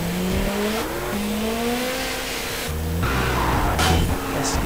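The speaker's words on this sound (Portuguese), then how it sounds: "olha o áudio aqui, ó, do motor deste" Sports car engine from a GTA V sound pack modded into GTA San Andreas, revving hard through rising gear pulls with loud, rasping exhaust and brief tire squeal, close and continuous.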